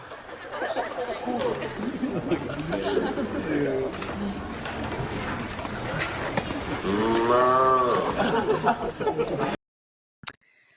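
Teenagers moo at a girl in mocking cow imitations over a noisy babble of chatter and laughter, the drawn-out voiced moos swelling loudest near the end before an abrupt cutoff.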